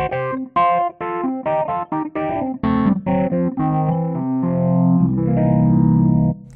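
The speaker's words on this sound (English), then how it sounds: "turn up the overdrive effect and just have a listen to this." Kawai ES920 digital piano played through its amp simulator with overdrive turned up, giving a gritty, distorted tone; a run of clear, loud notes and chords ends in a held, buzzing chord, with no talking.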